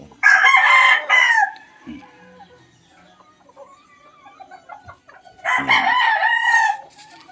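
A yellow-legged hatch gamefowl rooster crows loudly and close by, two full drawn-out crows several seconds apart with a few faint clucks and rustles in between.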